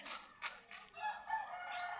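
Free-range chickens crow and cluck around a farmyard, with a few strong bursts of crowing followed by softer, scattered clucking at moderate distance.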